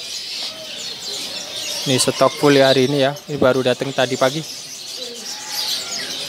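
White panda canaries at a bird market kiosk chirp and trill in rapid bursts over a voice, with cooing from other birds in the background.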